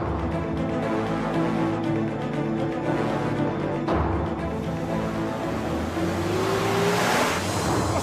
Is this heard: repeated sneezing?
no